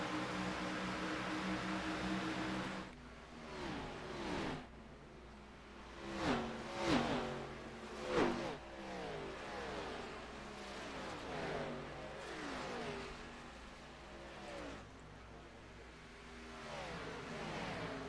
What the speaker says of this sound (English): Sounds like we're going to get some more cars taking pit road.